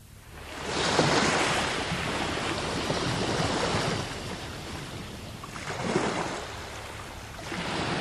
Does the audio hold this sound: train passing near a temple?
no